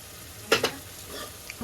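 Tomato sauce poured into fried onions in a hot pan bursts into a sharp, loud sizzle that quickly settles into a softer crackle with a light stir, close up and without talk.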